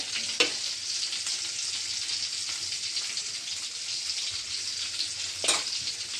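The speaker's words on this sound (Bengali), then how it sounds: "মাছটা ভাজা হবে ওই চুলোতেই" Fish frying in hot oil on a stove, a steady close sizzle with a few louder pops and spits, no talking.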